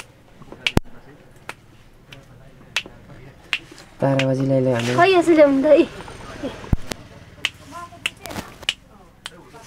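Sharp finger snaps ring out one at a time at irregular intervals, close and crisp, with people talking and a voice singing briefly in the middle.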